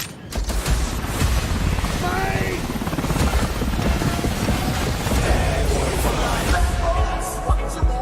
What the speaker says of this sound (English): Where the hell are they getting all these helicopters?